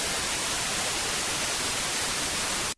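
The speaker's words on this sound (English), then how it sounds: "all I got was a wall of white noise" Radio static fills the air as a dense, uniform hiss of white noise, loud and unchanging for a few seconds before cutting off abruptly at the end.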